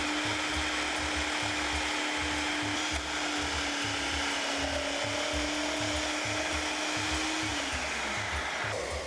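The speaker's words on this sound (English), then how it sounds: "I'm using my food processor." A food processor's motor whirs loudly and steadily while chopping vegetables, its pitch shifting slightly as the blades chop, with a rhythmic low churning underneath.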